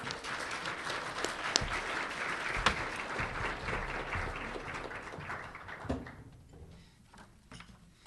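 Audience at a university lunch keynote on migration applauds to welcome the keynote speaker, a steady, fairly close burst of clapping that tapers off toward the end with a few scattered claps.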